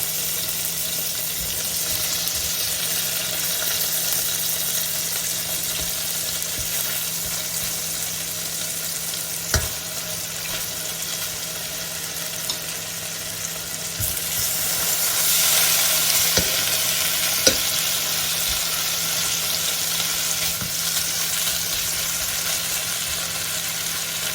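Steady crackling sizzle of four pieces of beef steak frying in a hot pan, continuous and close, with a few sharp clinks and a louder hiss swelling midway.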